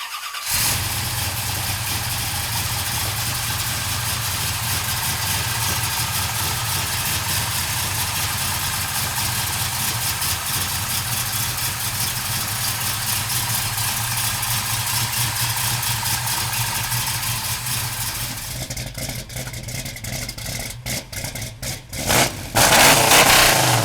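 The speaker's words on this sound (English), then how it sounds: "We're gonna pop the hood and fire up that 505 stroker." A 505 stroker V8 in a 1972 Plymouth Road Runner cranks and catches, then settles into a loud, rough, steady idle with a lopey rumble, heard close up and alone, with a few blips near the end.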